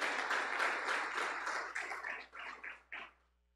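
A church congregation claps together in a broad, steady round of applause at a worship service, fading out after about three seconds.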